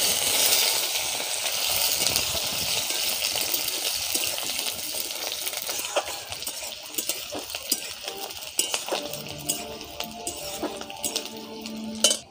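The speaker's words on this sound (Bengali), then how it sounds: "এবার আমি কোচানো পেঁয়াজ দেবো একটা।" Chopped onion fries in hot mustard oil with whole cardamom and cumin, giving a steady close sizzle with light clinks and stirring noises scattered over it, and no voices.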